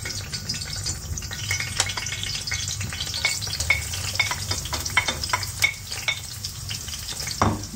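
Onions fry in a pan on a home stove, giving a steady close sizzle broken by frequent scraping and stirring clicks, louder toward the end, with no voices.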